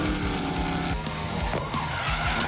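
Mid-mounted Chev V8 race car handbraking under a pedestrian bridge on a street circuit at the Waimate 50 Motorsport Festival, tires squealing and skidding over a loud roaring engine with rhythmic revving pulses.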